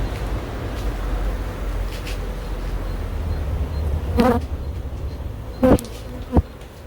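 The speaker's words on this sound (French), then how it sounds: "des petites abeilles noires qui sont pas faciles à" A swarm of small black honey bees buzzes in a dense, continuous drone, with a few louder individual insects passing close by toward the end.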